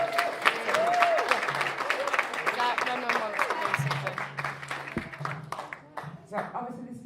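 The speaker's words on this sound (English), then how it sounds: "give them a quick cheer, please." Wedding reception guests applaud and cheer for the groomsmen, a dense burst of clapping and voices that carries on for several seconds in a lively room, with a few whistles and shouts on top.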